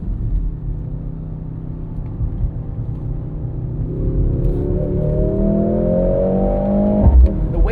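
A 2025 Mercedes-AMG GLC 63 S E Performance, a 671 hp four-cylinder hybrid, powers out of a corner; a steady rumble builds into a rising engine whine that climbs in pitch, close and fairly loud, ending with a brief thump.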